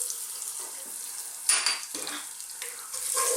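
Fresh garlic hitting hot oil in a pan for a vegan braised red cabbage with cumin, a sudden sizzling burst then bubbling spatter, with light clinks of stirring utensils.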